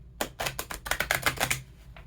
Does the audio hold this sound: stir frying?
no